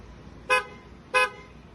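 Two short, bright honks from a newly installed BIOS horn on a 2024 Nissan Navara at a car accessory shop, evenly spaced and fairly loud over a quiet background.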